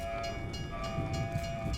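A train rumbles past in the zombies mode of Black Ops Cold War, a sustained mechanical rolling with a steady tonal horn-like drone over low rattling, continuous and moderately loud.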